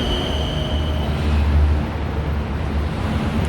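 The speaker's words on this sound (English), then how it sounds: "my train is arriving." A Bangkok BTS Skytrain rumbles into Wat Phra Sri Mahathat station with a low steady roar and rushing noise, loud and continuous, a faint high whine fading early on.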